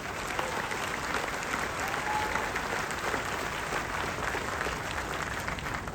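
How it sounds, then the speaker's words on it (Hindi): Loud, sustained audience applause fills a business program event hall in Ahmedabad, a dense steady wash of many hands clapping at once without pause. "जोरदार तालियां इंडिया ग्रो के लिए।"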